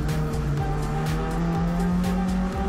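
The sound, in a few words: race car downshifting into blind left corner, Grand Prix de Pau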